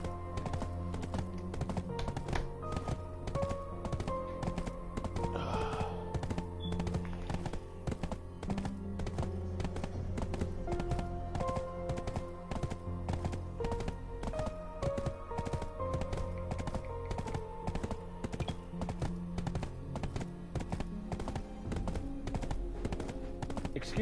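Horse hooves clip-clop steadily as a rider travels in a video game, a fast regular tapping rhythm running throughout over layered game music, fairly quiet overall.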